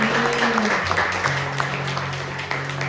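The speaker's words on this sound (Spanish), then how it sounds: "le damos un fuerte aplauso al Padre" A church congregation applauding together, dense steady clapping throughout with a low sustained tone underneath.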